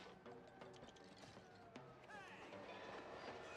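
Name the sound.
train passing on tracks in a video game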